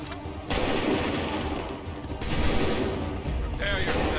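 Musket volleys in the video game Assassin's Creed 3, a dense crackling roar of massed gunfire that swells in waves across the battlefield, loud and continuous, with shouted commands mixed in beneath.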